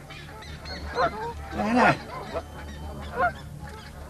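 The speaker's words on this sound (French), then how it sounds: "c'est cette oie, j'ai l'impression qu'elle m'en veut" A goose honks in an animated cartoon, one loud, close squawking call in the middle with a few softer honks before and after, while a voice says a short word over low background sound.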